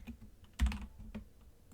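Typing on a computer keyboard: a few soft keystrokes, with one louder key press in the middle, close and quiet.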